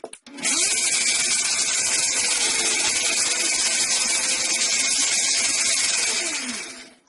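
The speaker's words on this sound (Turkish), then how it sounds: "Hepsini bu şekilde blender'dan geçireceğim." A blender pureeing tomatoes starts up with a loud, high-pitched whir, runs steadily for several seconds, then winds down at the end.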